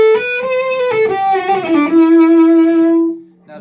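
An Outlaw Fiddle EV3 electric violin runs through a distorted high-gain tube amp, playing a short descending phrase of buzzy, harmonically rich notes that settles on one sustained tone and then fades.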